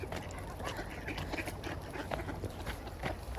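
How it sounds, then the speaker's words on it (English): Ducks quacking on a path, a whole group of them close by, with repeated calls scattered through continuous outdoor background noise and no talking. "Whole leap of ducks."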